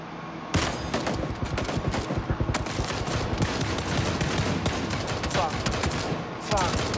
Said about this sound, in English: Where is the shooting?